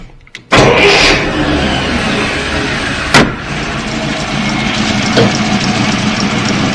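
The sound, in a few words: 1938 Buick Special engine running at idle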